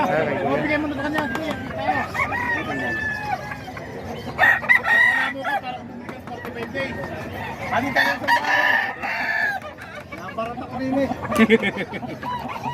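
A fighting rooster offered for sale crows several times, loud and close, with stretched, rising calls and some clucking mixed in, while people talk over and around it.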